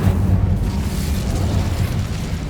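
An Incendio fire spell in Hogwarts Legacy bursts out as a heavy, booming whoosh of flame, loud and close, holding a low rumble for a couple of seconds.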